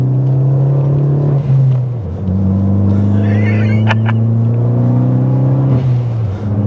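A Ford Focus ST hot hatch pulls hard under acceleration, its engine note rising loudly, dipping briefly at a gear change, then climbing again, heard close from inside the cabin.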